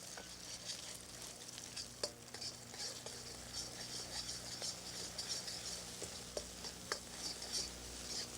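An egg is scrambled in frying oil, a faint crackling sizzle with light, busy stirring and occasional taps of a utensil against the pan, with no one talking.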